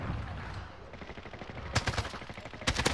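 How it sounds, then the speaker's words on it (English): Rapid bursts of gunfire in Call of Duty Warzone, a zombie battle royale match, crackle in sharp clustered volleys that intensify toward the end, loud and close over continuous game background noise. "I'm getting shot at from down right."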